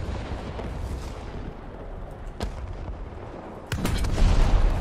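Artillery fire in a World War II video game, with a sharp single boom mid-way and a second heavier blast near the end that leaves a louder rumbling tail over steady background noise.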